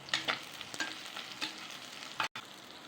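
Sliced onion and garlic sauté in hot oil, giving a soft, close sizzle broken by a few sharp stirring scrapes and a brief cutoff near the end.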